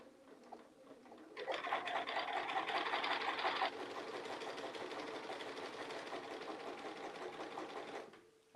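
Sewing machine stitching across a quilted arrow panel, a continuous close motor hum with fast even needle chatter that speeds up briefly, then settles and runs steadily to the edge before stopping, no talk.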